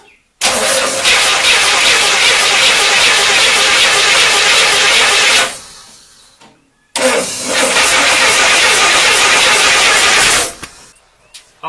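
A car engine cranks on a starter switch in two long, loud bursts of steady whirring, each cutting off with a short pause between them.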